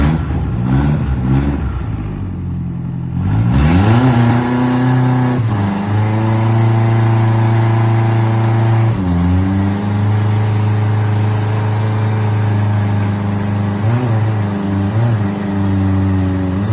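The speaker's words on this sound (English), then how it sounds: "So here's a small burnout." Turbocharged Lada fitted with a 1NZ-FE engine revs hard through a small burnout, its loud engine note climbing and holding at high rpm with repeated surges and dips, close and continuous with no talk.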